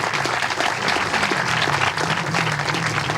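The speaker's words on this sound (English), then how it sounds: "Let's give her a round of applause." Sustained applause from an indoor audience honoring a city councilmember at a Hampton civic gathering, a dense, steady wash of many hands clapping for the full length without a break.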